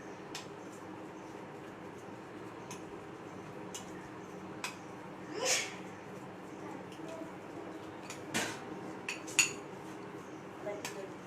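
Spoon clinks and scrapes against a pot or bowl while spices are mixed into a curry base, a few sharper metallic taps over a faint, steady background, fairly quiet.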